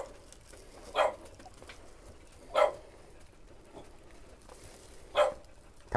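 Puppies in a rescued litter bark three times at even intervals, short sharp yaps at moderate distance over low background noise.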